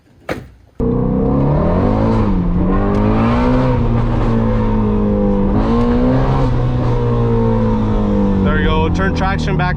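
A Ford Mustang GT350 V8 engine revving hard to warm up the tires, a loud sustained roar that rises and falls in pitch over several seconds after a brief start, heard up close.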